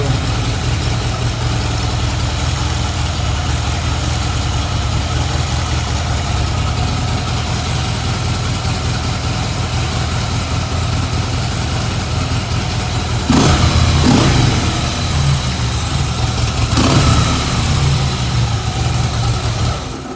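A 2017 Harley Davidson Dyna Wide Glide engine idles with a steady low rumble, then revs up briefly a couple of times near the end before settling back.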